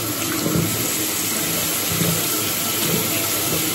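Tap water runs steadily into a bathroom sink during an evening skincare routine, a continuous close splashing hiss with no voices.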